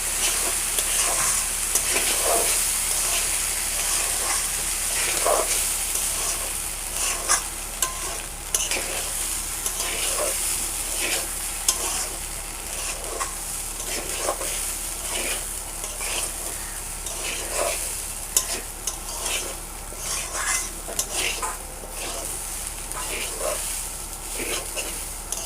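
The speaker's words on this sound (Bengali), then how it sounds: "চালটাকে একটু ভালো করেই ভেজে নিতে হবে" Rice being fried in a pan with hilsa broth for hilsa pulao, a loud continuous sizzle under steady rhythmic scraping and stirring strokes, close up with no voices.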